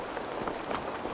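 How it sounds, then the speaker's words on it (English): Rain pattering steadily on surfaces in the video game Assassin's Creed Valhalla, set in England; a dense, even hiss of falling drops, fairly loud, with no talk over it. "And it's raining. What a surprise."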